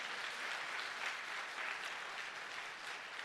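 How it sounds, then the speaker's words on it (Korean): A church congregation at an evening revival service claps together in a dense, steady wave of applause that fills the room without a break. "우리 하나님께 박수로 영광 올리겠습니다."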